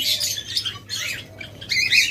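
Caged pet birds in a colony setup squawk in harsh, loud bursts, several overlapping calls with brief gaps between them, close and unaccompanied by speech.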